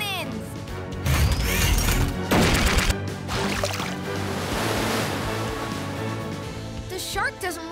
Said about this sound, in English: Oh, oh, water cannons.